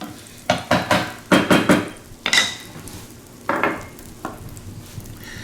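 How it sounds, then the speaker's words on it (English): Butter melting in a pan while a bamboo spoon stirs and knocks against it, several sharp clacking scrapes in bursts over a faint sizzle. "we're going to start melting this butter here a little bit with our old friend, Mr. Bamboo Spoon"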